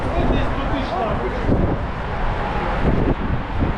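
Steady wind buffets the microphone with a low roar and rustle in Georgia, constant and close, with no clear voices.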